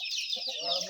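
Chickens clucking at a village poultry farm in a forest setting in Keonjhar, Odisha, a close, busy chorus of clucks through one brief moment.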